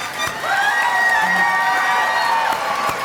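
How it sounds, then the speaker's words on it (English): A crowd at a winter graduation ceremony cheers and whoops loudly, sustained voices ringing out together, with scattered claps underneath. "let's give another round of applause to our graduates"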